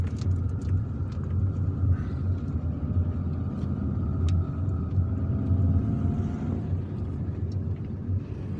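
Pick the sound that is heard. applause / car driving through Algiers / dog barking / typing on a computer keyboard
car driving through Algiers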